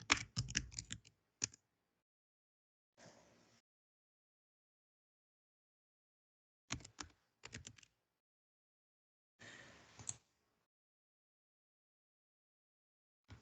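Someone types a name on a computer keyboard in short separate bursts of quick key clicks with long silent gaps between them, close and quiet, with no talking.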